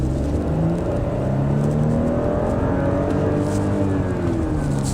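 A 2020 Audi Q7 SUV under hard acceleration, a steady, loud engine roar with a whirring rise in pitch heard from inside the cabin, continuous for several seconds with no talk.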